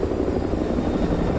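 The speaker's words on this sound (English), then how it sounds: "Enemy helo patrolling the perimeter" Enemy helicopter patrolling in Call of Duty Modern Warfare 2, a loud, steady low rotor thump and engine drone filling the whole moment without speech.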